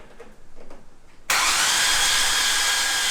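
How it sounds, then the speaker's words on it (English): Ford FG six-cylinder turbo engine cranked over on the starter with its spark plugs removed, so it never fires. After some soft handling noises, a loud, steady whirring drone cuts in suddenly and runs on evenly at close range. "we'll give it a crank and check our oil feed"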